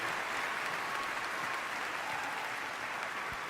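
An audience claps in a continuous, even wash of applause, heard at a moderate distance with no break for the few seconds it lasts.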